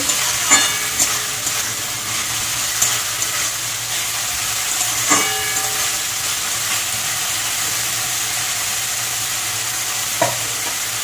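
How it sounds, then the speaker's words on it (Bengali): Banana stem frying in a pan gives off a continuous close sizzle, with a few light stirring clinks scattered through, and no voices over it. "থোর ভাজা আমার হয়ে গেছে"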